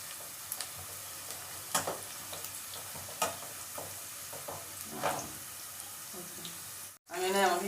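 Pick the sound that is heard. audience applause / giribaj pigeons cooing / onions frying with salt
onions frying with salt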